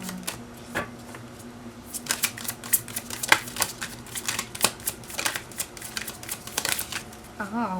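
Tarot cards are shuffled and drawn in quick, uneven bursts of papery riffles and snaps, close and fairly loud, with a person speaking at the start and end.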